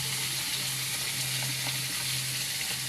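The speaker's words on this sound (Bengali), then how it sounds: "এখন আমি এখানে কিছু মশলা দিয়ে দিচ্ছি, যেমন পেঁয়াজ বাটা আর রসুন বাটা দিব।" Onion and garlic paste frying in a pan while cooking fish with bottle gourd greens: a steady, close sizzle with soft crackle runs throughout, with no talk.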